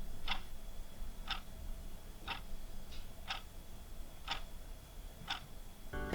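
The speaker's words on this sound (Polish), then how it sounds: "Na koniec postanowiłem też zrobić test ciszy i zegarka." A clock ticks in a quiet room during a test of a Comica CVM-VP2 shotgun microphone, giving sharp, evenly spaced ticks about once per second over a faint noise floor.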